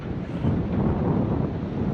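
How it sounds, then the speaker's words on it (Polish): Steady broadband wind rumble buffeting the microphone over an open field near many wind turbines, loud and continuous throughout with no voices. "tutaj wieje chyba zawsze"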